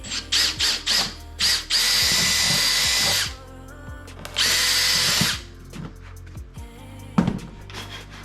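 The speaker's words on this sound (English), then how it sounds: "both of those holes drilled." A power drill boring holes through timber during a Ford Transit van cupboard renovation, with short trigger bursts followed by two longer sustained runs of loud whining motor, ending in quieter handling clicks.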